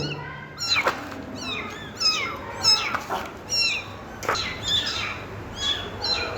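Several small kittens meow repeatedly in high, thin rising cries, some overlapping, close by in a quiet indoor space with faint background noise and no talking.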